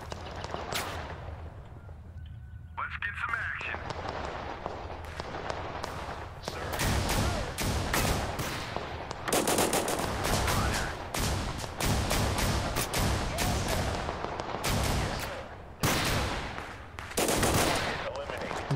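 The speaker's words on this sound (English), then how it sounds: "Not more shotguns." Shotgun blasts and machine gun fire in the video game Total Conflict: Resistance: dense, rapid volleys crack repeatedly and loudly over a continuous battle din, with brief lulls between salvos.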